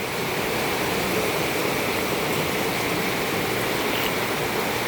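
Water runs outside in a constant rushing wash, steady and fairly loud, with no breaks and no voices.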